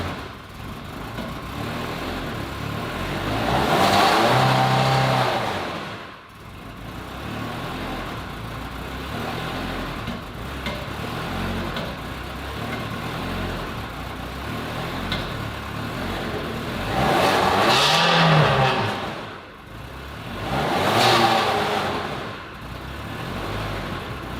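An abandoned Ferrari 360 Spider being brought back to life, its engine running unevenly with two or three swelling revs over a rough idle, close and fairly loud, with no talk.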